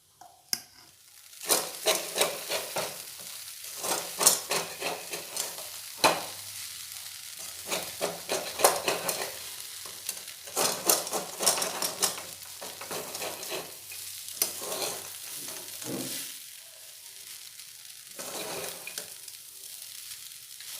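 Raisins being stirred in ghee in a pan: a soft sizzle punctuated by repeated scraping and clinking of a spoon against metal, in uneven bursts with brief quieter gaps.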